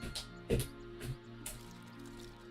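A creature in a fantasy adventure game laps up muddy water, giving a few wet squishy slurps and drips at a close, moderate level over a soft background of game music.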